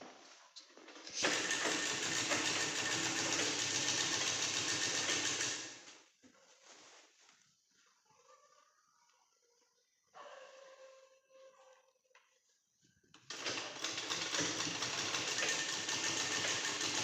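A sewing machine stitching a long frock runs in two long, steady loud bursts, with a quieter stretch of fabric handling and small clicks between them.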